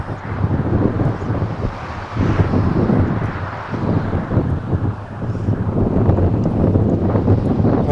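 Strong wind gusts buffet the microphone at a wind turbine test site, a loud, rough, continuous rumble that swells and eases without pause.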